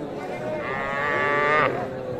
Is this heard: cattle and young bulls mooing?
yes